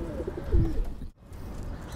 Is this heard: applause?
no